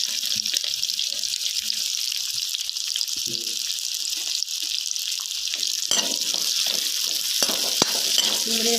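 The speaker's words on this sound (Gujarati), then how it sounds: "ડુંગળી સરસ મજાની ફ્રાય કરી લેવાની છે।" Onion frying with chillies and garlic in a pan for rajma rice, a steady high sizzle with occasional stirring clatter, close and constant, with no talk over it.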